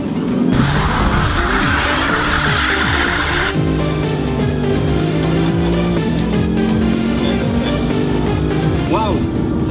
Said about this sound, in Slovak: Takže ľavá noha na brzdu, stlačíme tlačidlo Launch,